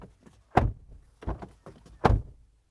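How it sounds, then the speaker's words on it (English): Doors of a 2023 GWM Tank 300 SUV thudding shut, three solid thunks close by with quiet pauses between, no talking. "this is what the door sounds like."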